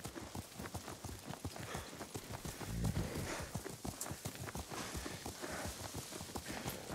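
Horse hooves clip-clopping at a steady riding pace in the samurai video game Ghost of Tsushima, a continuous rhythmic trot close up against a soft game ambience.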